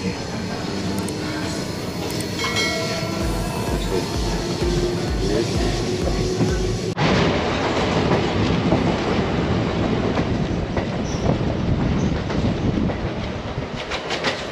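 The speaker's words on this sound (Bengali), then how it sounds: "ট্রেন ছাড়লো আমারুন স্টেশন থেকে" A train pulls away from Amarun station with rumbling wheels and rhythmic clickety-clack, steady and loud from onboard, with faint voices in the background.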